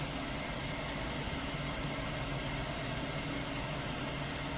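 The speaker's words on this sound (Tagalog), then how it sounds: "maingay yung exhaust fan" A kitchen exhaust fan runs steadily and loudly during stir-frying, a continuous broadband whir with a low hum underneath, unbroken throughout.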